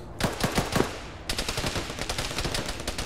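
Gunfire in the military shooter Arma during a ShackTac squad firefight: a few sharp, close single shots, then a sustained rattling burst of rapid automatic fire that runs on without a break.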